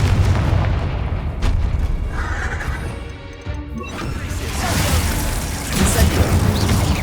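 Confringo and Descendo spell blasts in Hogwarts Legacy, fought against spiders: loud crashing booms and smashing impacts roll one after another over a dense, rumbling game soundscape, with a brief lull in the middle before the din surges again.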